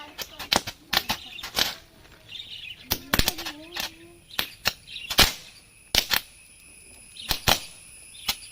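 Ring caps lit in a batch of about 500 go off as a scattered run of sharp, dry cracks and pops, irregular and close, with brief quiet gaps between bursts and a faint whistle partway through.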